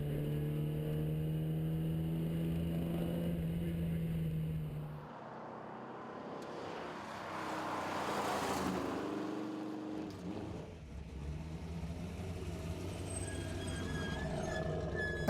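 Volvo race car driven fast in the Carrera Panamericana road race, a loud sustained engine roar with shifting pitch, a brief dip and a rise as it passes, then steady driving noise.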